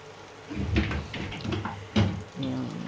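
Hot tap water runs and splashes while a mixer jar cover is rinsed at a kitchen sink, in short uneven bursts with a voice faintly audible alongside.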